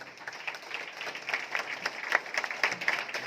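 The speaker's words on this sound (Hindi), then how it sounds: "जोरदार तालियां हो जाए" Dense, moderately loud clapping from a seated crowd at a celebration in Shirdi, a continuous patter of many hands with no voices over it.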